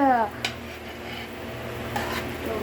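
Onions fry in a pan for curry, with a soft sizzle underneath and a few metallic scrapes and clinks of a spoon stirring against the pan, all fairly quiet and close.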